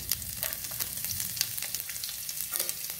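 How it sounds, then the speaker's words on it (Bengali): Chopped garlic dropped into hot oil tempered with bay leaf, dried red chilli, whole cumin and nigella seeds, sizzling and crackling continuously up close with occasional stirring, no voices. "শুকনো লঙ্কা, দুটো গোটা জিরে, একটু কালো জিরে ফোড়ন দিয়ে এবার রসুন কুচিগুলো দিলাম।"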